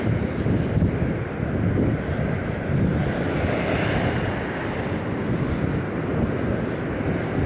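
Ocean surf breaks steadily on the shore in a continuous loud roar, with heavy wind buffeting the microphone throughout and no voices.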